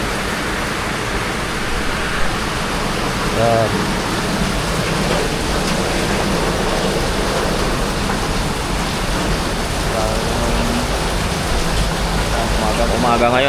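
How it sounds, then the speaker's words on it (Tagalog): Heavy typhoon rain hisses steadily and densely outdoors, a continuous wash of noise with a voice speaking briefly over it. "Kaya kung mapapansin niyo ay grabe na ulan dito sa labas."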